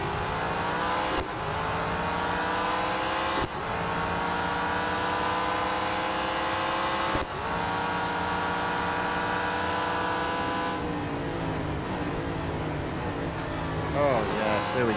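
A race car engine from the Real Racing 3 video game drones and revs in steady rising pitches, with sudden gear-change dips and some late crackling, loud and continuous throughout.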